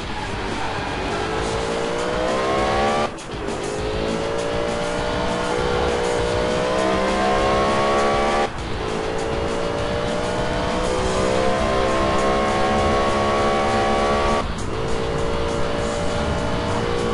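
Racing cars in the video game Alarm für Cobra 11 roar continuously at high revs with repeated gear shifts, the engine pitch climbing after each shift, with tire squeal mixed into a loud, dense engine sound.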